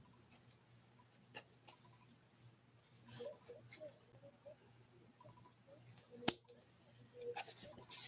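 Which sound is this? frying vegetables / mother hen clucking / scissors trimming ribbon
scissors trimming ribbon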